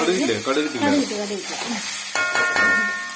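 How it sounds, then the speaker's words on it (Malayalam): Chopped onions sauté with popped mustard seeds in a pan, a close sizzle with stirring scrapes and a couple of sharp metallic clinks near the end. "കടുക് പൊട്ടിച്ച് സവോള ഇട്ട് സവോള നന്നായിട്ട് വഴറ്റിയെടുക്കണം."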